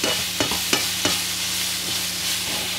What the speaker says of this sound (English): So each batch of pumpkin takes about 4 minutes to cook on a high heat. Just keep moving it around.